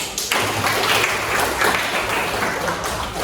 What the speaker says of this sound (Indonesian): Cukup tepuk tangan untuk videonya.